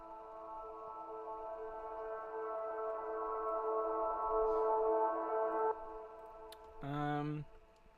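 A sustained synth pad from Splice, pitched down and time-stretched, swells softly and holds for several seconds before cutting off; a brief brighter tone follows near the end. Quiet, with faint background noise.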